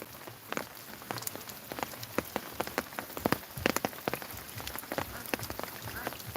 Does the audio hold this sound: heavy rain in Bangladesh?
yes